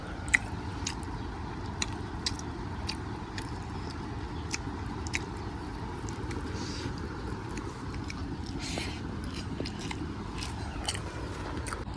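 Close-up eating of a village meal of large sea poa fish with rice, dal and mashed potato: soft wet chewing and squishing goes on steadily, with small clicks and smacks scattered throughout and no talking.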